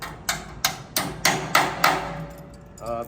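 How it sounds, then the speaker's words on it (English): Six evenly spaced, sharp metallic hammer strikes ring out close by as beam clips are hammered onto a steel I-beam, each followed by a brief ringing decay, then a short clatter. "Just hammer them on."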